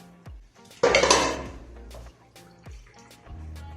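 Metal pan lid clattering down over a pan of cooking meatballs on low heat, a loud burst of clanks and rattling settling into quieter kitchen clinks, with no talking.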